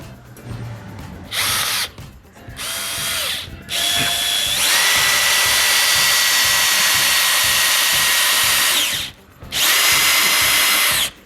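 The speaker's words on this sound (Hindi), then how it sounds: "ये देखिए काफ़ी आसानी से ये स्क्रू करते हैं।" A Bosch GSB 18V cordless impact drill driver drives screws into wood in loud whirring bursts, stopping briefly in between. The motor whines at a high pitch and ratchets under load. Nobody speaks.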